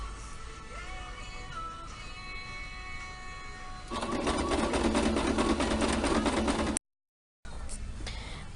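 A sewing machine stitching fabric for an apron. It runs quietly at first, then breaks into a loud, rapid, steady whir of stitching that halts briefly before starting again, close up.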